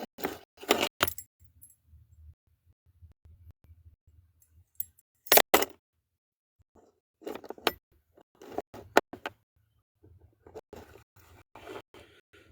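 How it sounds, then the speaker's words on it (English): A bunch of keys jangles close by in several short, bright clinking bursts separated by quiet gaps, with faint low rumble between them. "Keys are right here."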